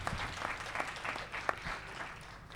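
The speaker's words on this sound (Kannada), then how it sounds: "ಜೋರಾಗಿ ಚಪ್ಪಾಳೆ ಹೊಡಿಬೋದು ನೀವು" A hall audience at a classical music concert applauds, fairly faint and steady clapping from a distance, with a single sharper clap standing out partway through.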